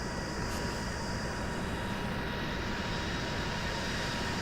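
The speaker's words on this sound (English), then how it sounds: "The airline noise is loud." Airliner engine noise from Microsoft Flight Simulator X at cruise altitude, a steady loud broadband roar and hum that holds constant throughout with no talking.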